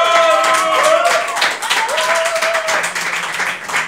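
Studio audience applause on a Catalan TV show, clapping and crowd noise running under a host's voice that speaks over it at the start, then fading as the clapping continues.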